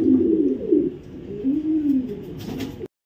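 Afsan grizzle pigeons coo in low, rolling phrases, several birds overlapping close by in a steady murmur for a few seconds before an abrupt stop.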